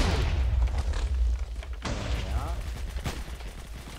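Machine gun bursts and heavy booms from a Minecraft battle with the Flans mod, loud rapid firing that fades into scattered shots, with people talking over it.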